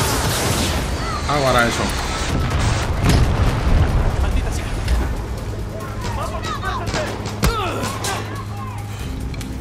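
Gunfire and explosions crash through a Far Cry 6 firefight in heavy low rumbling booms and scattered sharp shots, while someone talks in Spanish over the din.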